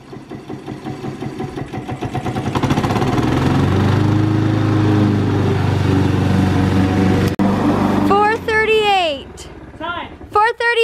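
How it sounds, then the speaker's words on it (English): A riding lawn mower engine starts low, rises to a loud steady drone and holds there. Near the end a voice speaks over it. "I like to see how fast I go on the lawnmower."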